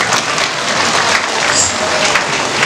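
An audience at an Indonesian gathering applauds steadily, a dense continuous wash of clapping from many hands lasting throughout, fairly loud and close.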